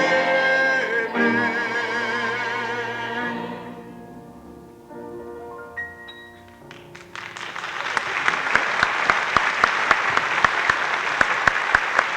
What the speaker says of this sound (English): Let's give them a very nice round of applause.